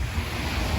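Water splashing and lapping along the Dubai Marina waterfront at night, a steady broadband wash with low rumbling surges and some wind noise, close and continuous for under a second.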